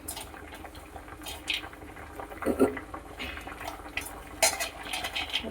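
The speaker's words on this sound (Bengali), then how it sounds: "ঝোলটা ফুটছে, একটু নেড়ে দিই।" Fish curry with drumstick pods bubbling in a pot, a soft steady simmer broken by a few clinks and scrapes of a spoon stirring against the metal, with speech over parts of it.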